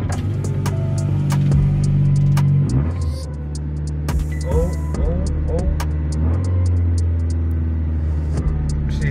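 Car engine idling steadily just after a cold start, a low continuous hum and throb with voices talking over it inside the cabin.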